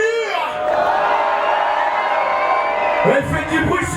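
Live crowd at a jumpstyle battle event cheering, whooping and shouting in a loud, sustained roar that swells toward the end, with a voice breaking through near the close.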